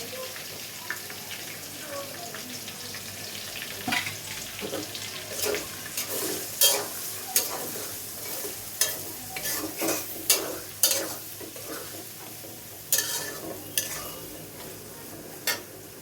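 Onions frying in a pan for pulao, with irregular stirring scrapes and clinks over a steady low sizzle, close up, with no talk.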